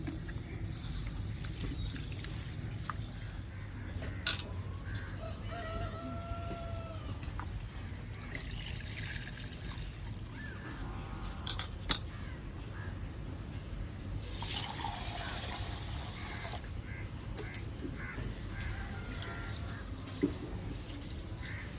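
Ration rice being rinsed by hand in water, the water changed several times, for a rainy-day khichuri in a village kitchen: sloshing, pouring and trickling water throughout, close and steady, with a few faint clinks.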